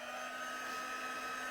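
A heat tool blows hot air over a stamped card, a steady close whirring hiss alone for a moment.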